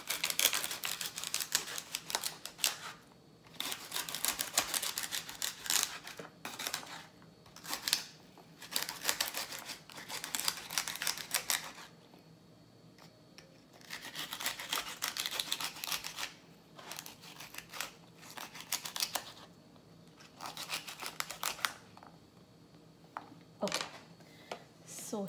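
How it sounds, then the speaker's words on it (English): Knife chopping fresh celery stalks into small pieces on a board, rapid crisp clicking cuts in repeated runs with short pauses, close and fairly faint. "here we have some fresh celery stalks, and I'm going to cut them into some more pieces"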